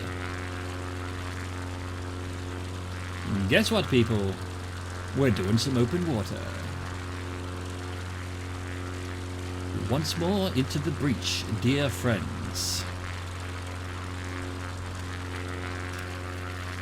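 A propeller airplane engine hums in a flight simulator game, a constant, even drone running throughout while someone talks in a few short bursts over it.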